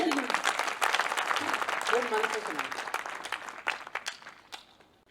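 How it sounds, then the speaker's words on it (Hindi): Audience at a kavi sammelan, a Hindi poetry gathering in Indore, bursts into applause that stays strong before tapering off near the end, with some voices mixed in. "एक बार जरा ताली बजाइए"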